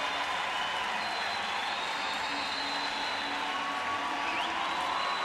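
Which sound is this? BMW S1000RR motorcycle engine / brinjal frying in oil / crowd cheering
crowd cheering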